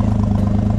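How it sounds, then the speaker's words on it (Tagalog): Suzuki DA64W 4x4 engine idling steadily up close, a continuous low rumble with a faint clattery pulse and no voices. "napaka ganda ng andar ng makina natin mga kaliyan"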